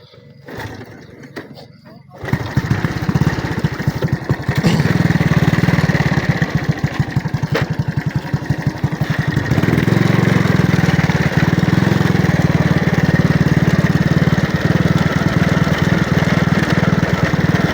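A walking tractor's small single-cylinder engine chugs steadily at close range, a constant rough putter that grows slightly louder and fuller partway through.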